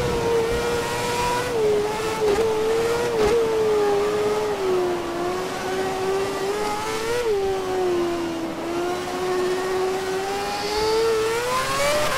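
A Formula 1 race car engine in the Formula 1 2011 game at Shanghai, a loud, steady high-pitched whine that wavers slightly with throttle, droning without pause.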